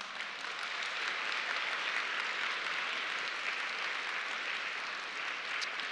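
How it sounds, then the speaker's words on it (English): A middle school audience breaks into applause, a steady wash of many hands clapping that holds at an even level throughout, heard from a slight distance with no talking over it. "Round of applause."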